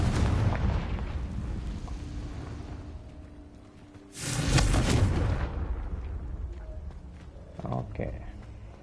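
A fire spell detonates in the Hogwarts Legacy game with a sudden loud boom and a roaring burst, set against ongoing game noise and a talking voice.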